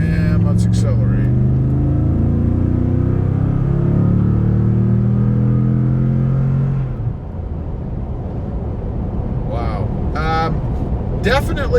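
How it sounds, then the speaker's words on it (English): A Toyota Tundra with a TRD dual exhaust pulls away from a stop, its engine note climbing loudly for several seconds before easing off, after which someone talks over a quieter background. "Definitely a different sound out of the Tundra, out of the TRD exhaust."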